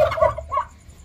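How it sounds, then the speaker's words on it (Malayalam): Turkeys gobble at close range, two quick rattling bursts within a second, loud and clear with no talking over them. "ഇവരാണ് ആൾക്കാര് നമ്മൾ എന്തെങ്കിലും ഉണ്ടുമ്പോ ബഹളം വെക്കണവരെ ടർക്കികൾ"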